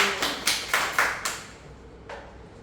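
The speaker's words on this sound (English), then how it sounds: "Give yourself a round of applause for being here." A few scattered claps from a small seminar audience on a rainy morning, five or six sharp separate hits in quick succession fading out, with one last clap after a pause, close and fairly quiet.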